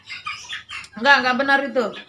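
A rooster crows once, a loud, harmonic, drawn-out call that is clearly heard after a moment of talking. It sounds close and may be a person imitating the crow while telling a story.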